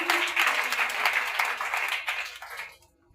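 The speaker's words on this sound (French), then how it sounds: "Acclame très fort Jésus." A church congregation at a testimony service applauding loudly, dense hand clapping with shouts of acclaim that holds steady and then fades out near the end.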